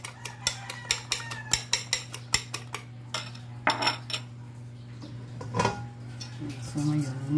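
A utensil beats rapidly against a bowl in a home kitchen, making a quick run of sharp, evenly spaced clinks for about three seconds, then a few scattered knocks and scrapes, with someone speaking softly nearby.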